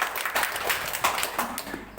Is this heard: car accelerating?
no